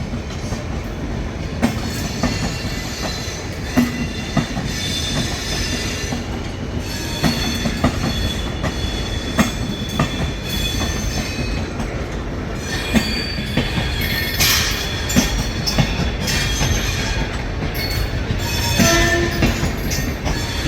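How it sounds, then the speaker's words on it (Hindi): Mumbai Rajdhani Express rolling past at an Indian railway station, a loud continuous rumble of wagons with clattering wheels and brief squeals throughout, nobody talking. "ये निकल गई हमारी मुंबई राजधानी एक्सप्रेस।"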